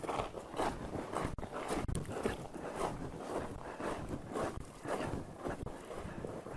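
Steady crunching footsteps on loose gravel mixed with rocks and sand, close to the mic, continuing at an even walking pace with light wind noise, on a canyon hiking trail in Big Bend National Park.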